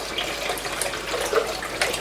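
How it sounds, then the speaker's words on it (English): Plain water runs into a pan while potatoes are being prepared for canning, a steady close splashing stream with no talking. "So I'm going to top off this pan of plain water,"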